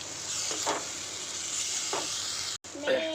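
Mixed spice masala for sambar sizzles in a hot pan with a steady, bright hiss, broken by a few scraping stirs and one brief cut near the end.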